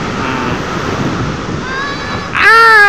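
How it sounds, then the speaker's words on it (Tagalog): Ocean surf rushes and churns continuously with heavy wind noise buffeting the microphone, and a louder burst near the end. "laki ng alon"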